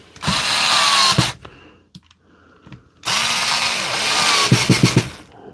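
A powered driver sets screws into a DeWalt battery tool during a repair. Two close, loud whirring bursts are split by a pause of small clicks, and the second burst ends in quick ratcheting pulses.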